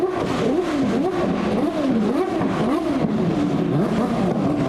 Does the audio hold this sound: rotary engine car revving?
yes